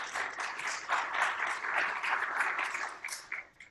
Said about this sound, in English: There's been clapping for each of the presentations.